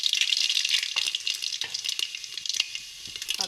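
Whole spices, including mustard seeds, dropped into hot oil crackle and sizzle in a steady bright hiss with small pops and faint stirring clicks.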